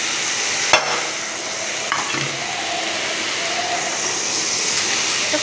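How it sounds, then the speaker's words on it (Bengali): Boiled spinach stirred and fried in a pan, with a steady sizzling hiss throughout and a couple of sharp clinks of the utensil against the pan. No one speaks. "দিয়ে এবার একটু নেড়ে নিচ্ছি, একটুখানি ভাজা ভাজা করে নিচ্ছি"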